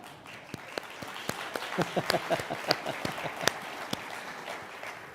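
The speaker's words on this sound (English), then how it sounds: "That's right, Melody, you can applaud." An audience at a 2022 State of the City address gives a short round of scattered clapping for a city leadership team introduction, with a few voices mixed in.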